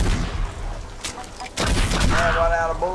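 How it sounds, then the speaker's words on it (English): Gunfire in the Red Dead Redemption video game comes as a burst of loud, sharp shots and booms in quick succession, mixed with game sounds and brief voices. "Run out of bullets, Paul."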